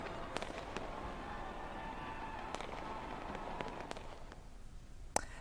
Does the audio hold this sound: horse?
no